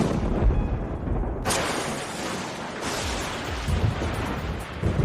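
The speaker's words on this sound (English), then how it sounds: "We've all seen lightning during a thunderstorm" Thunder from a lightning strike during a thunderstorm rolls out as a loud, sustained rumble, with a sharp crack partway through and a long booming tail that keeps going to the end, no voices.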